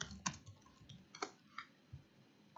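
A few scattered keystrokes on a computer keyboard, soft, sparse clicks spaced unevenly against faint background noise in a quiet room.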